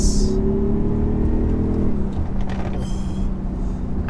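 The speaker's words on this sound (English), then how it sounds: "it's very obvious that there are speakers in the exhaust, but it's making V8 noises" A 2017 Audi SQ7 engine drones through speakers in the exhaust that play synthetic V8 sounds, a steady low hum that dips and shifts slightly as the car drives.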